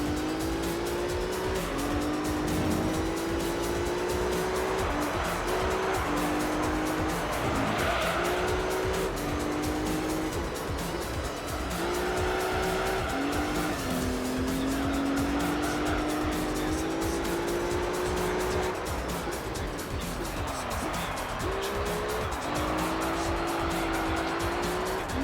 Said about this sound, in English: this car does slides around corners pretty nicely